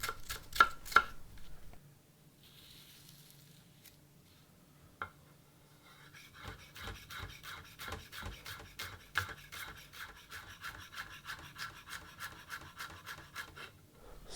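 Knife finely chopping shallot on a cutting board for a black truffle risotto, a fast, steady run of close, crisp knife taps filling the second half after a few scattered earlier strikes.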